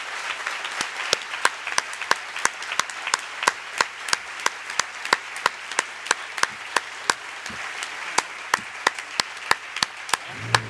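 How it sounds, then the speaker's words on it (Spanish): An audience applauds after a talk featuring Eduardo Madina and Fermín Muguruza, a steady wash of many hands clapping, with sharp individual claps standing out rhythmically throughout, fairly close and continuous for about ten seconds. "Un aplauso para ellos, por favor."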